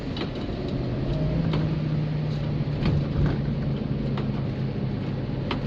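A 1956 New Zealand-assembled Austin Cambridge A50 cruising in top gear at about 25 mph, its steady low engine drone and road rumble continuous and close, with faint ticks and rattles over the hum.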